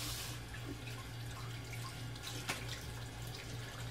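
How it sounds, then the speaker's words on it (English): Tap water running into a sink for rinsing the face after a safety razor shave, a constant hiss of flowing water with a low hum underneath and one brief splash midway, heard alone. "rinse with warm water, and then I'll switch to cold water and let it get as cold as it can"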